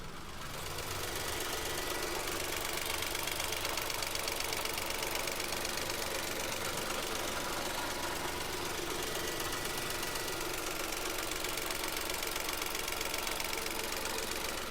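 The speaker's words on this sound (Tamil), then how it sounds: "வண்டியோட இன்ஜின் நாய்ஸ் எப்படி இருக்குன்றதை நான் மைக்கை பக்கத்தில் வச்சு உங்களுக்கு காட்டுறேன்" Held close to the engine bay of a 2012 Nissan Micra in smooth condition, a microphone captures a steady idle with a fine, rapid mechanical ticking over a continuous hum, constant and moderately loud throughout.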